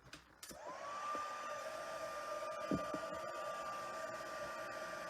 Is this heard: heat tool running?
yes